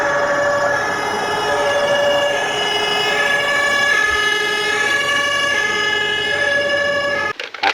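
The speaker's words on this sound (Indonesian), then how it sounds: "di sini kakak dapat mainan yaitu sebuah mobil damkar" A toy fire truck gives off a continuous electronic siren, a steady loud tone with no pauses until a short clatter of handling at the very end.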